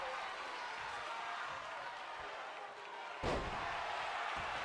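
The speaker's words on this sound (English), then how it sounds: "Turk just slamming him onto the ground. The big power bomb." A wrestling video game plays a power bomb as one wrestler is slammed onto the ground: a single sharp thud lands over the steady roar of the arena crowd.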